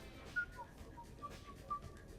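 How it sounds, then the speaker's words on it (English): A character whistles a few short, clear notes in the Mass Effect 3 video game, faint and spaced over a low background of game ambience. "He's actually whistling"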